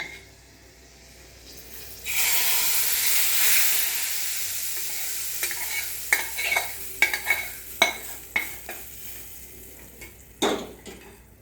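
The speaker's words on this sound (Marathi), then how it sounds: "आता हे आपण ह्याच्यावरती फोडणी घालून घेऊया" Hot tempering is poured over cooked methi leaves and garlic in a pan, setting off a loud sizzle. A run of sharp clinks from a spoon on the pan follows, with no talk.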